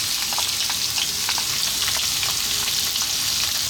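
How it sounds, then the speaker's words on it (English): Onion tossed into potatoes frying in oil for a fish curry, giving a steady, close hiss of sizzling with small crackles and light stirring throughout, with no talking. "Next up, we're going to add our onion."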